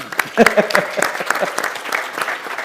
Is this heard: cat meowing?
no